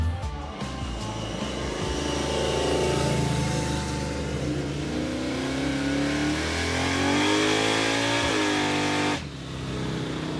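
Crusher Impala, a Chevrolet race car with a freshly changed transmission, accelerating hard with a loud, steady engine roar rising in pitch through several gear shifts before an abrupt drop near the end.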